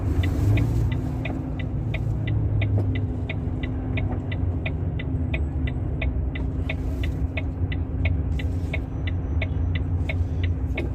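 An Ashok Leyland Falcon drives along Dammam port road in Saudi Arabia. Its engine makes a steady low rumble, and an even, regular ticking, probably the indicator, runs through the whole stretch.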